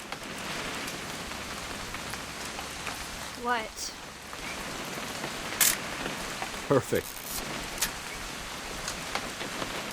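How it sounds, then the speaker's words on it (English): Steady rain falls throughout in the game What Remains of Edith Finch, a continuous hiss with a few brief knocks and clatters, while people briefly talk over it. "It's gonna rain the whole weekend,"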